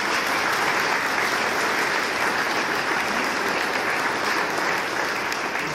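Loud, steady applause from a seated audience at the Equestria partners' evening organised by the Tarbes tourist office, a continuous dense clatter of many hands lasting several seconds.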